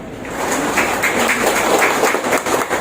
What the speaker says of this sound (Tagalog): Sample na palakpak!